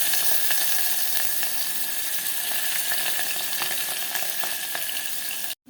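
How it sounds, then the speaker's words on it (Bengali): Chopped onion frying in hot oil with garam masala gives a dense, steady sizzle close by, loud and unbroken until it cuts off abruptly at the end. "পেঁয়াজটা ভাজা ভাজা হয়ে গেছে"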